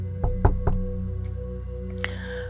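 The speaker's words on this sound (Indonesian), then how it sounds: "saya mendengar pintu diketuk" Three quick knocks on a door ring out close and clear, followed by a faint hum and a brief rustle, a sound effect in a horror story.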